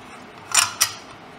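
Two quick plastic clicks as the screw cap inside a microcentrifuge lid is turned loose in a lab, the first a short rattling click and the second a sharper snap.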